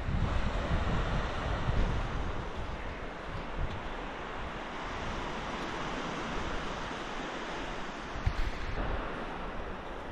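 Sea waves wash onto a beach at Balnakeil in Sutherland as the tide comes in, a continuous loud surf roar mixed with wind buffeting the microphone.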